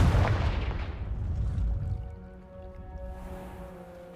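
In the video game Hogwarts Legacy, a Confringo spell lands with a heavy explosive boom, followed by a rumbling, ringing tail that fades over a few seconds.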